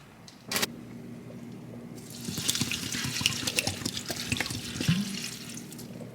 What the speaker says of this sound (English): I am just rinsing this off.